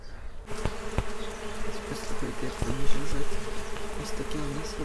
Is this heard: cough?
no